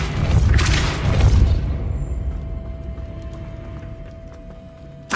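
Depulso spell cast in Hogwarts Legacy, a loud booming burst with a rushing crackle that fades over a few seconds into a low lingering rumble, alone without talk.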